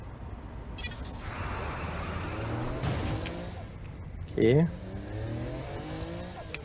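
A car engine in Saints Row: The Third hums steadily with rising revving harmonics as the car is driven, with a short sharp burst midway, while someone talks over it.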